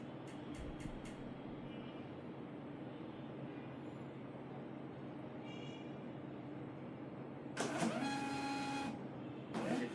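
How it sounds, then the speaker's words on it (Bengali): A 4-inch label printer on a quiet background, with a faint steady hum, brief clicks at the start and a short whirring feed burst near the end followed by one more quick whir. "প্রিন্ট হয়ে গেছে, আপনাদেরকে আমি একটু দেখাই। খুব সুন্দর প্রিন্ট হয়েছে।"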